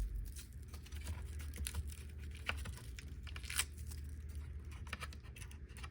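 Adhesive tape torn off to secure an AirTag inside an MPC Live 2 during a Q-Link knob board repair, giving a dense run of crackly ripping and crinkling close by, with scattered sharper snaps.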